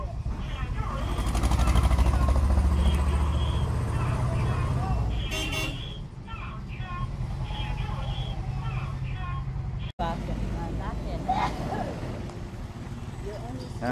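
An electric bus reverses, its motor humming under continuous tonal warning beeps and road noise, heard from nearby as people talk.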